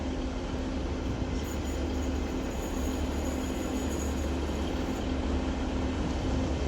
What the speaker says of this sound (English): Arriving in is going to be the 1543 Transpennine Express service to Huddersfield from Manchester